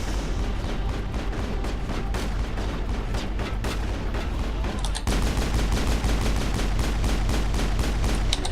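Rapid, sustained gunfire from a firefight in the video game Mass Effect, played on Insanity difficulty as an Engineer, with dense overlapping shots and loud bursts running steadily throughout.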